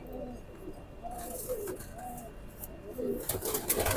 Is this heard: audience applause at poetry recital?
no